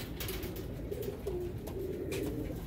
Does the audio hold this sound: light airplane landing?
no